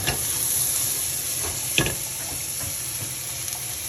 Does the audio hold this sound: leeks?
yes